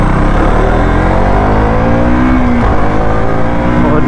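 A KTM RC 200 GP Edition motorcycle accelerates on a night ride, its engine droning loud and steady close by, the pitch rising near the end as it pulls harder.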